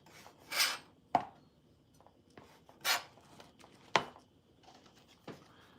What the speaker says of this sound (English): Let's cut it up a little bit more.